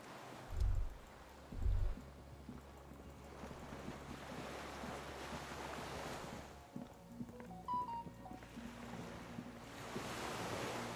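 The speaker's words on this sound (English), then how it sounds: "The skiff is swaying on the waves." Waves lap around a swaying skiff in the video game Disco Elysium, a soft continuous wash of water and wind with two low thumps early on and faint tonal game sounds later, with no talk.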